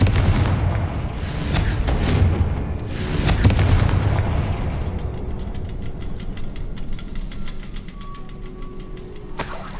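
A Confringo fire spell explodes in the Hogwarts Legacy video game, giving a loud booming blast with a rumbling tail. Further crackling and impact sounds and a faint tone follow, with no talking.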